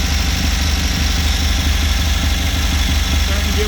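An MGB engine fitted with a Weber DCOE carburetor idles close by, a steady loud low rumble with an even rapid pulse and no change in revs.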